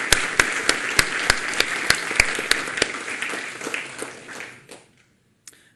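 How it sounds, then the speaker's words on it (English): Audience in a university lecture hall applauds a teaching assistant at a student video game demo event, a mix of sharp individual claps over a softer crowd wash that tapers off and stops, followed by a lone clap. "So I just want to give Jason a round of applause and thanks."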